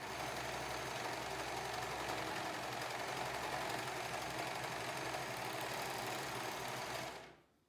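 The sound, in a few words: sewing machine overcasting the edge of a fabric mask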